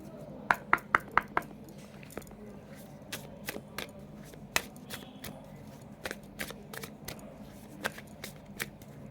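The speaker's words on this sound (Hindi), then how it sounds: "अभी मैं ऑरिकल कार्ड से कुछ कार्ड्स निकालती हूँ।" Oracle cards being shuffled and drawn from a deck, giving a string of sharp, crisp card snaps and flicks close by, with a quick burst at the start and then scattered riffles over a quiet background.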